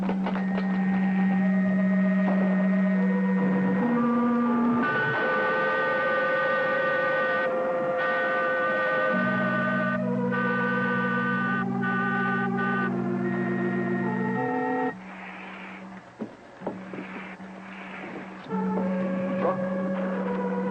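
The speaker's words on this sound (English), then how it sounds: "The sound of a motor." In the 1954 science fiction serial Rocky Jones, Space Rangers, an eerie electronic motor effect hums with sustained tones that step between pitches, loud and continuous apart from a brief dip near the end, with no voices over it.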